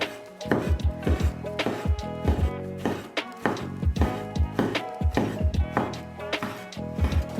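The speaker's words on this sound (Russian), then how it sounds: "Мелко нарезаем симжин, внутренний бараний жир, на кубики." Knife chopping Kalmyk simzhin, internal mutton fat, into small cubes on a board, with steady rhythmic thunks close up and no talking.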